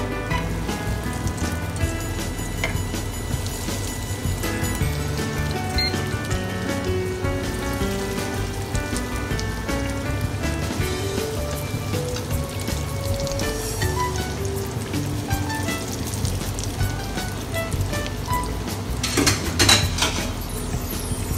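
Milk cakes fry in hot oil in a small pan, giving a steady, close crackling sizzle that runs throughout, with a short louder burst of spattering near the end and no talking.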